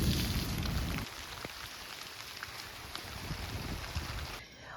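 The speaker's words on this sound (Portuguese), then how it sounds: "E como tá uma chuva mais tranquila agora?" Light rain patters steadily around a lakeside campsite at Park dos Lagos, a soft broadband hiss with scattered drops. A low rumble fills the first second, and the rain noise thins out abruptly near the end.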